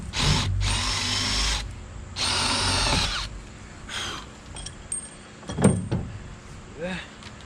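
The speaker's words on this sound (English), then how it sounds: "now, through the middle of this, I'm going to drill a hole to accommodate these threaded rods." A power drill bores a hole through a part of a power catamaran build to fit threaded rods, with several loud whirring bursts separated by pauses, then quieter clunks and handling noises nearby.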